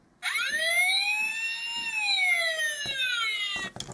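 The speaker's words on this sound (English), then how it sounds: "he will still make his siren noises as well in this mode" A Transformers Dark of the Moon Sentinel Prime toy plays an electronic siren, a loud, close wailing tone that sweeps up and down for several seconds before cutting off with a few clicks.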